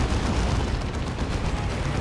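Heavy autocannon and bolter fire from a Space Marine and Nurgle battle in the strategy game Dawn of War 2, a dense continuous roar of overlapping shots and blasts with no talk.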